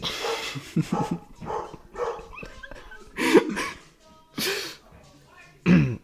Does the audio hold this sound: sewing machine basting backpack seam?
no